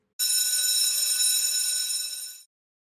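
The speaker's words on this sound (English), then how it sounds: "the bell rings." A school bell rings as one loud, continuous electric buzz for about two seconds, starting abruptly and cutting off cleanly, alone in near silence.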